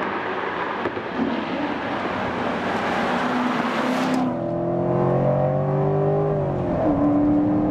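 A Corvette C7 Stingray engine revving hard as it accelerates, pitch climbing through the gears with a rising whine, loud and close.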